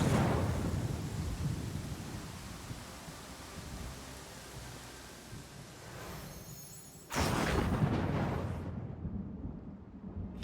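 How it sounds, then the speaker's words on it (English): Lightning strikes and thunder from the Pathfinder Kingmaker video game, a long rolling rumble that fades, then a sudden sharp crack and a second loud roll before cutting off. "Stop striking me with lightning"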